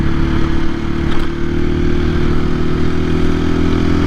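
A 2024 KTM EXC-F 500 dual sport motorcycle riding in fourth gear, a loud, close, steady engine drone with a deep throbbing rumble and wind noise, no talk.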